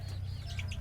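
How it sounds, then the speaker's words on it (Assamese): Local chickens on a farm cluck softly and continuously in a short, close burst, with a few higher chirps over a low steady background hum. "এইখনে হৈছে মোৰ লোকেল মুৰ্গী ফাৰ্ম"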